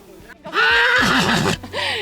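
A horse whinnies loudly and close by during a Hubertus hunt ride, a long wavering neigh of about a second, followed by a shorter second call, with faint voices around it.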